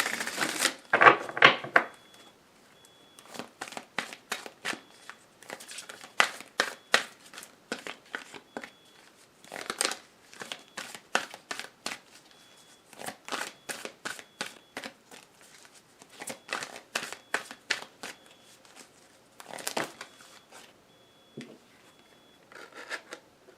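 Oracle cards being shuffled and drawn during a love tarot-style reading: repeated crisp riffling and snapping bursts in quick rhythmic runs, close and clear, with brief pauses between shuffles and no speech.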